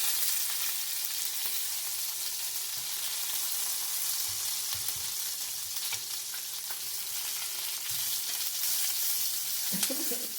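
Lamb chops searing in a hot pan, a continuous bright hiss of frying fat with occasional soft pops and shifting, heard up close without speech.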